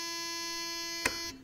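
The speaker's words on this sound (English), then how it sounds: "It'll beep here in a second." A Raven sprayer rate controller, powered on with no flow, emits a steady electronic beeping tone, a loud sustained buzz with harmonics that cuts off abruptly, close by.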